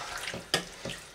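Water from an emptied bean can pours into a cooking pot of pork and bean pepperpot, a short close splash and gurgle with a sharper spill midway and another near the end.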